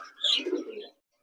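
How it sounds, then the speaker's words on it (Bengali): Bombay pigeons at a bird market give a short burst of cooing lasting about a second, close and fairly clear, followed by a quiet gap. "আর এখানে বোম্বাই জোড়া কবুতর আছে,"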